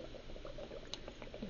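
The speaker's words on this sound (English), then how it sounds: "so let's pour the wine" Wine pours into a glass through an aerator, a soft, close, continuous bubbling trickle with small splashes, heard alone and quietly.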